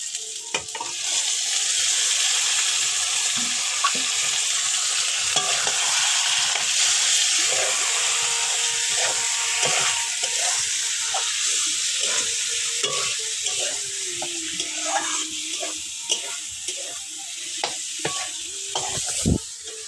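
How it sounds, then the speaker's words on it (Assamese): Broiler chicken meat fries in hot oil in a pan, giving a dense, continuous sizzle with occasional stirring scrapes, close and steady throughout. "তেল দি দিলোঁ আৰু তাত আছে মোৰ প্ৰিয় মাংস ব্ৰইলাৰ"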